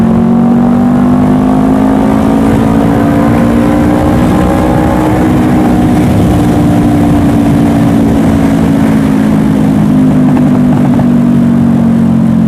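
A Honda CBR500R motorcycle on the move, its engine and exhaust droning loud and steady close to the rider, a continuous hum with slight shifts in pitch and no speech over it.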